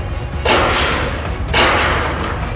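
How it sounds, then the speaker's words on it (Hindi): Two sharp, loud cracks about a second apart ring out over steady background noise, the gunfire of an attack on the Pakistan Stock Exchange in Karachi, with no talk. "सर मेरे सामने गोलियां चल रही हैं।"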